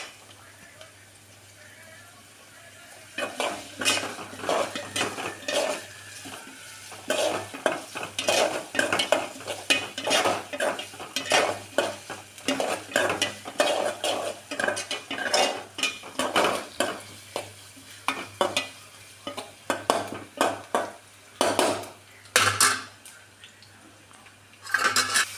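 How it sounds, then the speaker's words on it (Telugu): An onion mixture stirred in a pan as it browns, with repeated rhythmic scraping and clinking of a spoon against the pan over a low sizzle, starting after a quiet opening. "బాగా కలుపుకొని కొంచెం బ్రౌనిష్ వచ్చేలా కలుపుకోవాలి."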